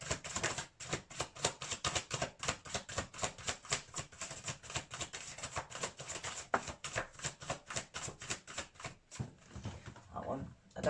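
Tarot cards shuffled in steady rapid riffs, a dense run of crisp papery flicks close to the mic, with a brief pause near the end.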